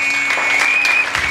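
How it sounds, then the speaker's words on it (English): Audience applause at a church service, a dense steady wash of clapping filling the short moment, with a sustained high tone running underneath. "Applause to that."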